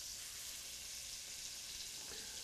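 Quail fry in a pan to brown and crisp on both sides, giving a soft, steady sizzle that stays faint and even throughout, with no voices.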